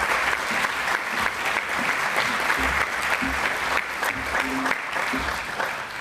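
Sustained audience applause welcoming the chancellor at a university philanthropy celebration evening, a steady dense clapping from a large crowd lasting throughout, fairly loud and even.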